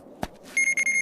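A power-level detector alarm goes off with rapid, shrill electronic beeps in a quick pulsing series, right after a single sharp click.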